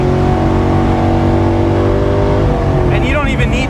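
A V8-swapped ND Mazda Miata with over 500 hp accelerates hard, its engine note a loud, steady drone with rising harmonics near the end, heard under someone talking.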